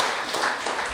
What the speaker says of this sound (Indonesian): Berikan tepuk tangan yang paling meriah buat Allah kita.